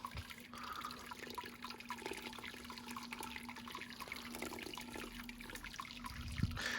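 Sparge water runs steadily through the grain basket of a home-brew saison mash, about 7.5 litres trickling and splashing in a continuous, even wash of liquid.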